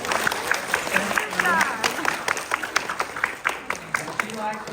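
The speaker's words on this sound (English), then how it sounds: "Give our helper a big clap." Children and parents clap for a young helper at a live dinosaur adventure show, a patchy burst of claps and crowd noise running beneath a presenter's steady talking.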